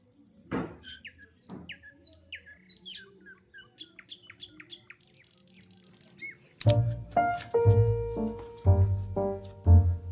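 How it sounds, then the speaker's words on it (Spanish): A small pet bird kept at a country home chirps and tweets in short, bright bursts, alone at first, then against a louder tonal background of music or sustained notes. "Es un pajarito muy travieso y muy consentido."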